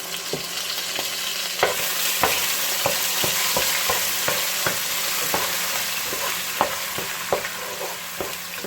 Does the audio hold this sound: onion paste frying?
yes